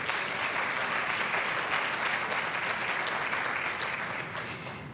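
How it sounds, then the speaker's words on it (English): Sustained audience applause fills the room for a speaker at a conference brunch, dense steady clapping that holds loud and then begins to fade toward the end. "Round of applause for Brad."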